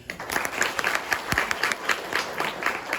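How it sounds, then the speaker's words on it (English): Scattered clapping from a small group, uneven claps forming a loose, rhythmic patter that stays moderately loud throughout. "Leon, clap for me."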